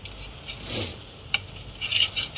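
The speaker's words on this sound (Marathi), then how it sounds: "असं आता हे छान असं मी परतून घेणारे मसाले हे बघा" Spices sauté in hot oil in a pan, giving a steady soft sizzle with a few scraping stirs from a spoon.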